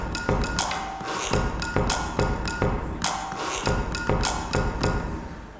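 Percussive mechanical taps and thuds from the turned knob of a sewing machine, a series of sharp clicking knocks with gear-like rattle repeating roughly every second, close and fairly loud with no voices.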